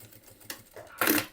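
Sewing machine stitching the seam of a fabric glasses organizer: a short, rapid mechanical run of needle clatter that starts softly and gets louder near the end, close and brief.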